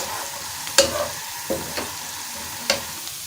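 Sharp crackles and spatters of hot oil tempering poured into palak pakora kadhi, a few distinct bursts over a soft background hiss, close by.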